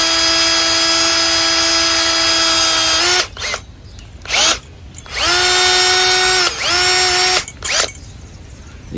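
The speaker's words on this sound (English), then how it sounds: "Let's try to drill this out." A power drill bores out a rivet on a pool skimmer net, several loud high whining bursts that spin up, hold steady and stop, with short pauses and brief quieter runs between them.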